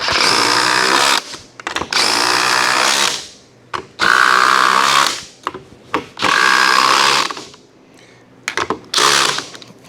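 A power drill running at high speed with a 1/8 inch bit bores holes for a Kubota BH92 backhoe rolling cart, whining loudly in four or five close bursts separated by short pauses.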